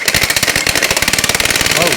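A power impact wrench hammering as its trigger is held, a loud, rapid, even rattle of sharp impacts repeating several times per second without a break.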